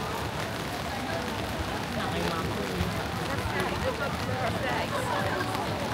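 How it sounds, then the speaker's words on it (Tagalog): Steady rain falls in Dotonbori, Osaka, a dense, even hiss that fills the street throughout, close and fairly loud, with faint mixed background murmur beneath it. "Kaya lang umuulan."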